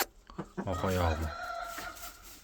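A young rooster crows once nearby, a rising drawn-out call that trails off, with faint background noise.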